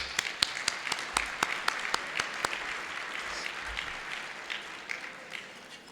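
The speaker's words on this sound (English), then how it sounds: "Let's give them a round of applause" A gala evening audience applauds for several honorees, steady crowd clapping with sharp louder individual claps standing out near the front, tapering slightly toward the end.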